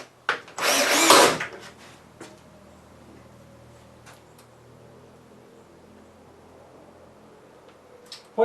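A power drill drives screws into a shelf rack in one loud, close burst of about a second, followed by quiet handling sounds, faint ticks and another brief start at the end.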